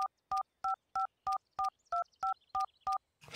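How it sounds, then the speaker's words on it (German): A mobile phone is dialed in the game Runaway 3, ten even keypad tones beeping in a steady rhythm, each crisp and separate, followed by a brief burst of noise at the end. "Ja, ich rufe ihn auf dem Handy an."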